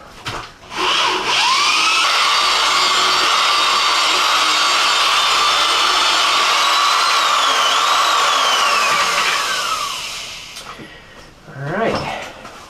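A power drill with a paddle mixes a small batch of thinset mortar, whirring loudly and steadily for about nine seconds while its pitch shifts, then slowing and stopping, followed by a short burst of rustling handling sounds.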